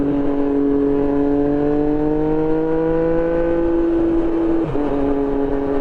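A 2024 Triumph Street Triple 765 RS motorcycle with a Racefit exhaust revs loud and close, its steady engine drone climbing slowly in pitch, briefly dipping near the end, then holding again.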